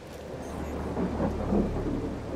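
Rain and rumbling thunder in the sci-fi survival game The Alters, a steady hiss of rainfall over a low rolling rumble that swells slightly midway.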